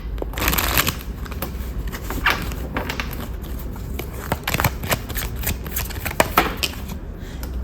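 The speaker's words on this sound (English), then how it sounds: "let's shuffle your cards" A deck of tarot cards being shuffled by hand, with a steady papery riffling and rustling that runs throughout, broken by soft taps and slaps as the cards are squared, close and moderately loud.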